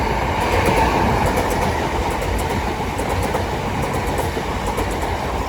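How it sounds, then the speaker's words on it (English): A pair of Southeastern Class 375 electric trains passing through New Cross station on the South Eastern Main Line, a loud, continuous close rumble and roar with faint rhythmic wheel clatter throughout. "So into pass through now will be a South Eastern pair of 375s going from Ramsgate to London Charing Cross."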